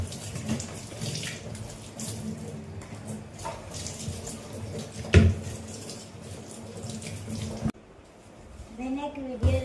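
A tap runs steadily into a basin while hair is washed, a continuous splashing water flow with occasional bumps and clatter, under someone speaking throughout, cutting off briefly near the end.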